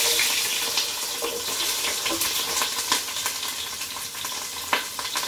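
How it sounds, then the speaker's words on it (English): Onions sizzle steadily in hot oil as the base for Nigerian jollof rice, a dense, close, continuous frying hiss scattered with sharp crackles and pops that runs throughout with no talking. "The oil is hot now, so I'm gonna put my onions and my"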